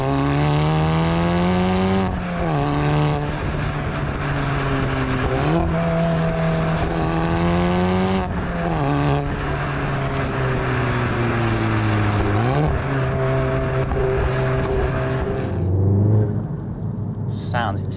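Loud, deep exhaust of a manual Stage 2 MK7.5 Volkswagen Golf R with a sports catalytic converter, roaring through repeated accelerations and gear changes, the pitch climbing and dropping in waves, heard from inside the car.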